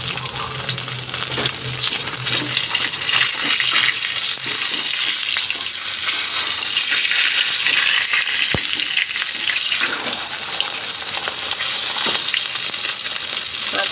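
A rohu fish head fries in hot oil with a loud, steady, dense sizzle and crackle, joined by occasional utensil clicks and scrapes, with no talking.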